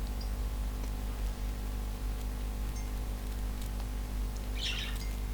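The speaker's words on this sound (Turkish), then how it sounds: "Kuş hala susmuyor." In the desert adventure video game Sable, a bird chirps a brief, high cluster of calls late on. A steady low hum and faint noise sit beneath it.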